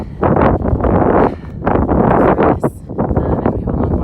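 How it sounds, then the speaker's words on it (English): Strong wind at an outdoor campsite on the Continental Divide Trail in Colorado, between Dillon/Breckenridge and Grand Lake, buffets the microphone in loud, continuous rumbling gusts that surge and ease over a few seconds. "It's kind of windy. Sorry about that."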